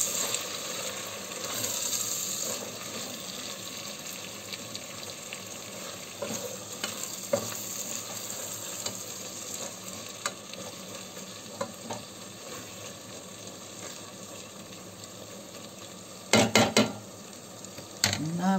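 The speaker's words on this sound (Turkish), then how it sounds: "Ve güzelce karıştırıyorum." A spoon stirring pea stew with red pepper flakes in a pot, soft scraping and sizzling close by, with scattered clinks and a few sharp metallic knocks against the pot near the end.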